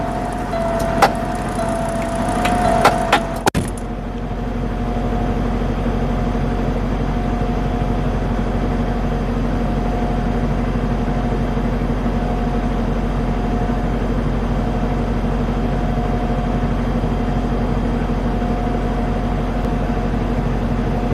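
A semi truck's diesel engine runs steadily at idle while a trailer is hooked up, a low constant rumble throughout; a few sharp knocks and clatter sound near the start, then only the even drone continues.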